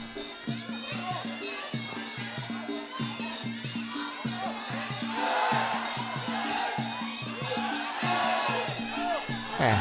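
Crowd at a Muay Thai boxing match between a Thai and a Cambodian fighter, chanting and cheering in a fast, regular beat that grows louder partway through, with a commentator talking over it.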